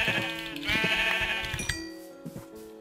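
Sheep bleat in a video game: two or three wavering, nasal bleats come one after another, fairly close and clear with no talk over them, then fade into a quiet tail.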